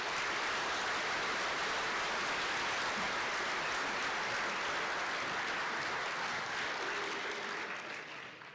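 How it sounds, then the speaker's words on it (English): Dense, steady applause from a large banquet audience, sustained for several seconds at an even level before beginning to taper off near the end, with no speech over it. "Let's please give a giant round of applause to our platinum sponsors."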